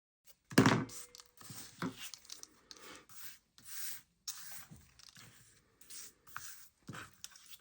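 Thin-tipped scissors cut a small paper piece in a series of quiet, close snips and rustles, with a sharper thunk near the start and brief pauses between cuts.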